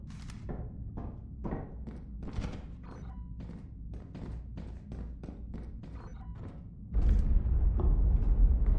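A gunpowder barrel in the video game Lethal Company, thrown and landing with a run of dull, repeated thuds at a moderate distance, followed by a louder burst of noise at the end.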